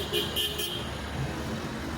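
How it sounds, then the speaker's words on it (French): Faint car horns toot a few times in quick succession over a low rumble of city-centre street traffic in Egypt. "Et en Égypte, ils adorent klaxonner."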